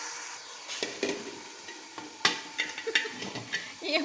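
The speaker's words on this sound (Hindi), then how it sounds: "मैं इसको फ्राई करके निकाल लूँगी। तो फ्राई कर रही है लहसुन अदरक में।" Chicken fries in garlic and ginger in a pan, giving a quiet sizzle broken by scraping stirs and light clinks that come in irregular bursts.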